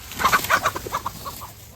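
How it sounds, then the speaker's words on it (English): Several backyard chickens clucking in short, repeated bursts close by, with a steady low background hum and no talking. "the Simmons family has raised chickens in their Battle Creek backyard"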